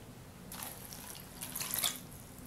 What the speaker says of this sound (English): I'm gonna throw in 1 cup of water.